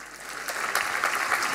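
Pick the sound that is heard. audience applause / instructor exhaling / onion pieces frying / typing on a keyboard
audience applause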